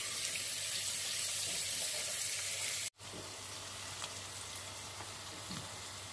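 Onions frying in oil over a full flame for an egg roast, giving a loud, steady, close sizzle with a brief cut partway through.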